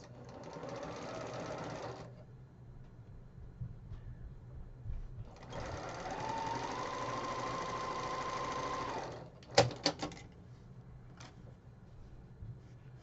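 A sewing machine stitches fabric pieces together for a quilt block in two steady runs, each a couple of seconds long, followed by a few short clicks and knocks.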